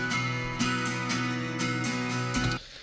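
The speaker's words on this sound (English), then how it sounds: "I have one acoustic, it's a 12 string" A 12-string acoustic guitar, close-miked with a Slate ML1 microphone for a song production, rings out in bright, full strums about every half second, with the chords ringing to a short fade.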